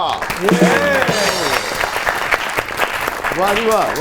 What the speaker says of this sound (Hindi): आपकी बहुत सी तालियों में the one and only doctor Elia.